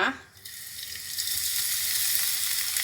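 Garlic hitting hot olive oil in a pan, a steady close bright sizzle that rises after a brief clatter and holds evenly, with no talking.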